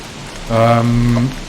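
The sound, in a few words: rain in video game Don't Starve Together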